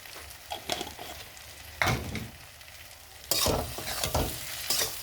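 Fish oil fries with brinjal in a pan, a close, crackling sizzle under repeated scraping stirs, with louder spatula strokes near the end and no voices.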